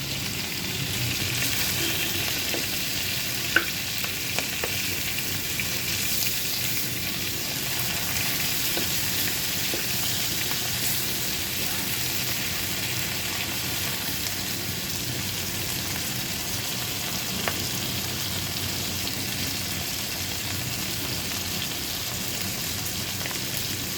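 Giant freshwater prawns frying in a pan give a steady, dense sizzle that crackles evenly throughout, with a few faint ticks and no talking.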